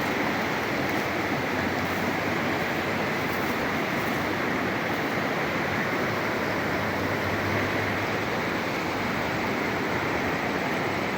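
A river flooded after rain flows with a constant broad rush of water, steady and fairly loud, with no pauses or voices.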